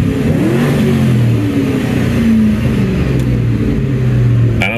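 A 1997 Ford Mustang SN95 engine revving up and easing back down in smooth rising and falling sweeps, loud and close, with a short sharp noise at the very end.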